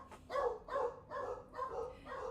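A dog barks five times in an even rhythm, each bark muffled and moderately loud, heard at a short distance with faint background hum.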